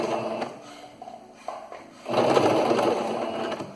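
A domestic sewing machine stitches a dish towel in short bursts, then backstitches at the end of the seam with a louder, steady mechanical whir, close by and without talk.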